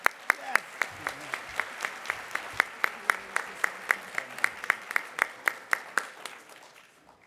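Audience applause at a sustainability summit award presentation, a sparse run of individual claps in steady rhythm, fairly close, fading out toward the end.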